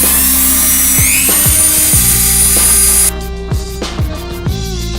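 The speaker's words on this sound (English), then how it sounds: "acquired Dremel, so I'm going to start taking away the pitting with this" High-pitched whine of a Dremel rotary tool grinding pitting off a metal knife blade, close and loud, with repeated rhythmic dips as it bites in and eases off.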